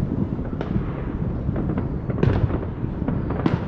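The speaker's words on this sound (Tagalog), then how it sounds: "Magandang fireworks kayo." Fireworks exploding in a dense, continuous barrage, with booming bursts and crackling pops overlapping throughout, loud and close with a few sharper reports standing out.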